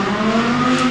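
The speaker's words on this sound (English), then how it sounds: "There goes the car" A race car at a rainy motorsport event passes close by, its engine a loud steady drone with a sustained pitch across the whole short moment, no voices over it.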